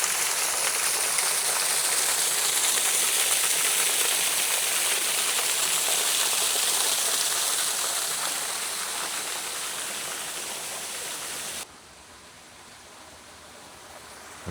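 Waterfall at Fairy Glen, a wooded glen, pouring as a steady loud broadband rush that holds for about twelve seconds, then drops abruptly to a quieter, more distant wash.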